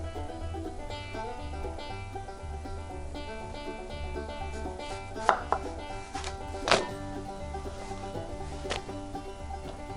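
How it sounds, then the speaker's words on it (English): A knife chops through raw vegetables into half-inch wedges on a cutting board, with steady repeated cuts and a few sharper knocks near the middle, close and clear with no talking. "I'm going to cut these into 1/2-inch wedges like this"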